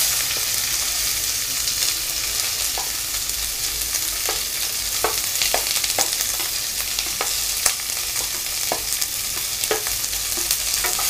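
Sliced onion sizzles steadily in hot oil as it sautés toward golden brown for a country chicken curry, with a spoon scraping and tapping the pan at irregular intervals.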